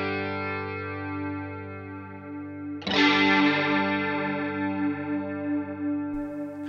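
Electric guitar played through a Fender Tone Master Pro with chorus effect, sustained shimmering chords ringing out, then a fresh strum about halfway through that swells and decays with a wavering, doubled modulation; no talking.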